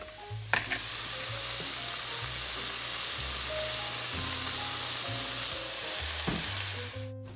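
Chicken tenders sizzle steadily in a pan over medium heat, a loud continuous frying hiss with occasional clinks and scrapes close by.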